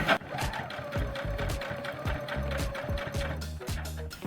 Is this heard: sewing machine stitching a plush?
yes